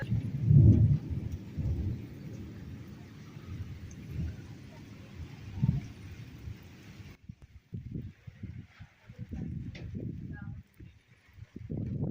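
A heavy rainstorm with rumbling thunder beats down near a mud house, a low, uneven roar with bursts of thunder, then choppier gusts, while a person talks over it.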